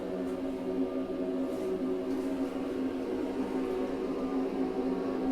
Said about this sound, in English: That noise you can hear, that's the extractor fans running in here.